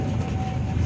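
Steady loud rumble and hum inside a moving economy-class passenger car on the Bengawan train running between Solo and Jakarta, with no voices.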